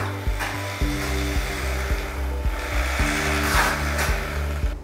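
A handheld power mixer churns tile mortar in a bucket, a loud, steady motor hum with pulsing, rhythmic stirring strokes through thick mix over several seconds.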